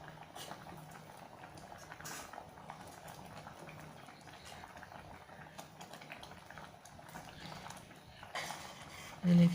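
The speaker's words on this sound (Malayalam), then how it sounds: "നന്നായിട്ട് തിളച്ച് കുറച്ച് കുറുകി വരുമ്പം" Carrot payasam bubbles in a pot at a low, steady simmer, soft continuous boiling close by with faint ticking pops, ending in a brief louder bump.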